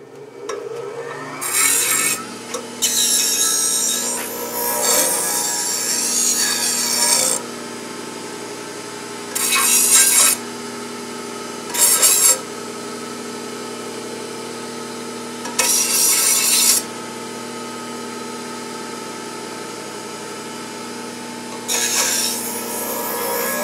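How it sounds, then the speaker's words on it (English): A sunglasses hanger has its edges ground with a power tool, heard as repeated loud rasping bursts of one to several seconds separated by pauses, over a steady motor hum, close up. "All right, I'm going to grind some edges on this."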